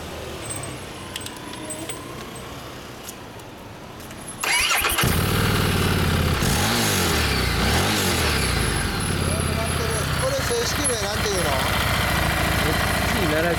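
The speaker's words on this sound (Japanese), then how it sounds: "エンジンを聞かせて" A 2015 Harley-Davidson Street 750 (XG750) water-cooled motorcycle engine cranks and starts, then idles with a loud, throbbing rumble and occasional blips of the throttle, close by.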